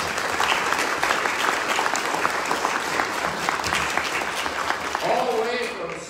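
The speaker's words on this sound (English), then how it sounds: "he deserves at least another round of applause" An audience gives the piano player a sustained round of applause, dense and steady clapping that carries on without words and tapers off near the end.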